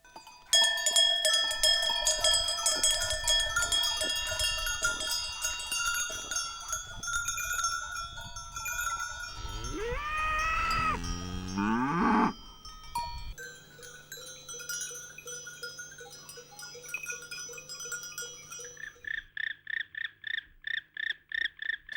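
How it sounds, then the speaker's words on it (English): Metal cowbells hang as collars on grazing sheep, goats and cows in the quiet Sardinian hinterland, clanking and ringing in overlapping tones. Near the end, a steady pulsing trill, likely frogs, comes in beneath the bells. "The melody is different depending on the shape and the dimension of the cowbell"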